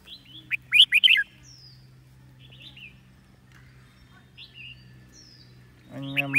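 A decoy songbird chirps and sings in short, bright bursts, with sparse high whistled notes between them, heard close over a low, steady hum, and a louder burst of chirping returns at the end.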